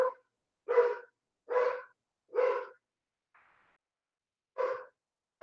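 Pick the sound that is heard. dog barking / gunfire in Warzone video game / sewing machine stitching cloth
dog barking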